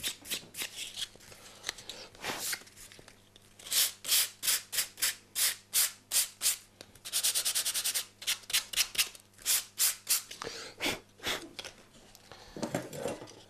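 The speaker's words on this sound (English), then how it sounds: "if you've got any hard bits of board or glue, just lightly sandpaper those away" Sandpaper lightly rubbed over hard bits of board and glue in bookbinding, a close series of rhythmic scratchy strokes, some in quick runs, heard alone.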